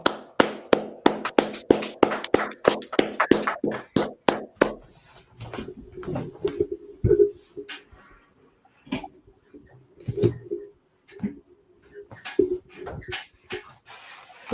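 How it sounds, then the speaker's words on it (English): A class claps together in a quick burst of sharp hand claps for about four seconds, then a few scattered claps and taps follow among quieter room noise. "All right, clap it up."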